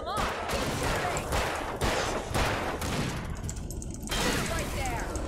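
Gunfire in the video game Alan Wake: dense, continuous bursts of shots packed into a loud fusillade, with a short lull before the firing resumes.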